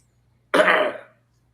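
A human voice imitates a cough, a single short rough throaty burst lasting about half a second, close and alone in silence.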